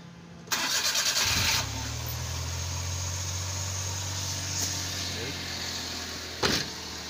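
Suzuki DA63T multicab, its engine previously idling erratically, cranks briefly, catches and settles into a smooth, steady idle, close up, with a short click near the end.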